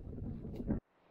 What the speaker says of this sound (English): As you can see, it's very, very windy.